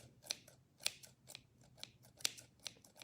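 Scissors snipping the fibre beard of a gnome ornament, about seven crisp close cuts in an irregular rhythm, quiet and with no talking.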